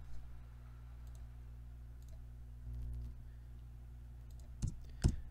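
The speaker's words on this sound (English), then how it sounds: "I'm going to hit Control M." Control M shortcut typed on a computer keyboard: two quick, sharp key clicks close together near the end, faint over a steady low room hum.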